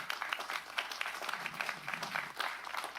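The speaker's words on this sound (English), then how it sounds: "Round of applause for our engineers" A crowd at a county supervisors meeting applauds with steady, dense clapping at moderate distance, continuing throughout without any talking over it.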